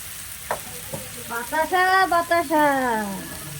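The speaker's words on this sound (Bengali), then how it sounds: "এবার আমি এটাকে ভালো করে নাড়াচাড়া দিয়ে ভালো করে ভেজে নিলাম।" Cabbage and shrimp frying in a pan sizzle steadily while being stirred, with the hiss swelling and crackling as the food is turned, and a voice talking quietly underneath.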